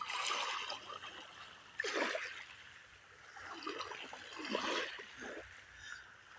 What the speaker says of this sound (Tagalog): kay ganda pakinggan ng lapyan ng tubig dagat sa Dalampasigan